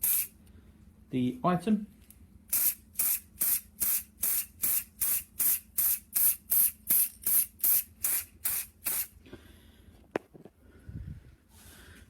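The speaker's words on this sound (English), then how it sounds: "time to try spraying up the other sides" Vinyl dye sprayed onto an item in a quick series of about sixteen even, sharp hissing bursts, close and steady in rhythm, with a brief spoken voice near the start.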